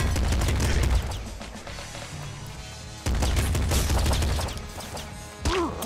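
Machine gun firing in the game Nuclear Throne: dense bursts of rapid electronic gunfire with crunchy impacts, loud and continuous with short breaks, and a few game effect sounds near the end.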